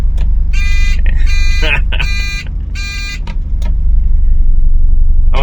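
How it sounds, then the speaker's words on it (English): Indicators on a Honda Acty kei van chiming in a loud, repeated electronic pattern, four bright bursts over a low idling engine rumble, with a voice speaking briefly between them. "You've got to hear these indicators, they are absolutely hilarious."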